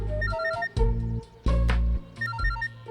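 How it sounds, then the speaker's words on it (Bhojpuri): A telephone rings with an incoming call, its ringtone repeating a bright melodic phrase in loud bursts with short gaps, heard alone without talk. "बाबूजी के फोन आ गए।"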